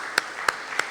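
Three sharp, evenly spaced hand claps ring out in a church congregation during a moment of thanks, each short and distinct against a quiet room.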